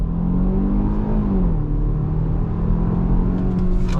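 A 2022 Hyundai Tucson compact SUV with all-wheel drive accelerates under throttle, its engine a loud steady drone that climbs in pitch and then settles, heard close with no talking.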